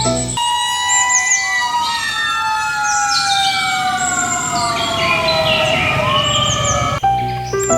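Toy fire truck siren wailing loud and close, several overlapping electronic tones sweeping up and down continuously for several seconds before a brief click and restart.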